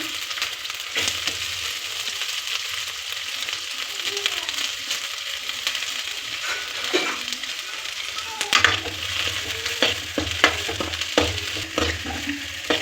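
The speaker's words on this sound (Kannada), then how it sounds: "ತ್ರೀ ಟೇಬಲ್ ಸ್ಪೂನ್ ಆಯಿಲ್ ಈರುಳ್ಳಿ ಹಾಕೋಬೇಕು" Onions fry in three tablespoons of oil for a paneer and peas masala, a steady close sizzle with repeated sharp scrapes and clacks of stirring.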